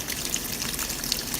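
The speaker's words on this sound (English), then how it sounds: "It's rinsing, so it's taking its water." Water rushes into a Panda PAN56MGW2 compact portable washing machine during its rinse cycle, a steady close hiss and gush with faint splashing.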